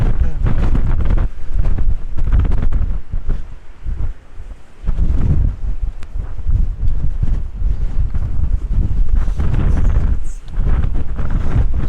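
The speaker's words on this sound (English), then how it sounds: "this wind's horrendous" Strong coastal gusts buffet the microphone outdoors near a castle, a loud, roaring low rumble that briefly eases before surging back, with faint talking underneath.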